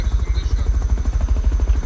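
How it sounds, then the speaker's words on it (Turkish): A scrap helicopter in the game Rust throbs with continuous rapid rotor chopping and an engine drone, loud and close, holding steady with no talk over it. "Helikopter bende."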